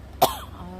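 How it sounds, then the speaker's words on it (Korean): A single sharp, close cough, a quick burst followed by a short throaty trailing sound. "죄송합니다. 기침이 갑자기 나온다."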